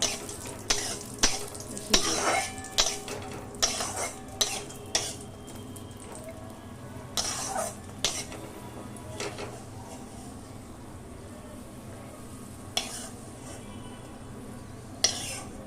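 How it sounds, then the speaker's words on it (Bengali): Cashews and raisins fry lightly in a pan, a soft low sizzle beneath repeated clattering scrapes of a spoon and metal utensils knocking the pan, in bursts through the first half then sparser, close and quiet. "এই যে নিয়েছি কাজু আর কিশমিশ, এগুলোকে আমি প্রথমে একটু হালকা করে ভেজে নেব।"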